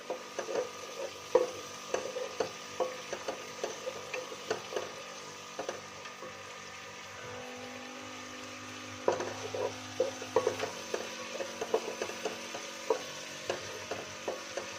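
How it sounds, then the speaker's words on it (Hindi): Spices and a large tomato being fried and stirred in a pan for turnip and spinach curry: soft steady sizzling with frequent light clicks and scrapes of a spoon against the pan, close and moderately quiet. "अच्छे से हमने मसाले को भूनना है कि टमाटर भी गल जाए।"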